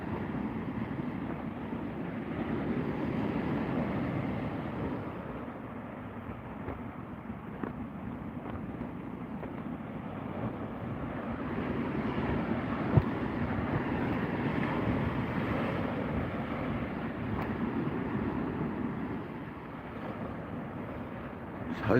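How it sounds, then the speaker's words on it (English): Sea waves wash continuously during sea fishing from a kayak, with a broad, steady rushing surge that swells and eases, partly mixed with wind buffeting on the microphone. "The sound of them waves."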